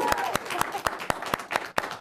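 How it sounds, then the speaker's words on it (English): Studio audience on a talk show gives a round of applause, with distinct sharp claps spaced out across the clip rather than a dense roar, a fairly small crowd heard close. "Everybody, big round of applause for those two."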